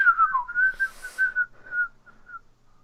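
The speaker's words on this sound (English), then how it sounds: "Here's a whistling interlude." A person whistles a short melodic tune, clear and close, wavering through a few notes before trailing off quietly.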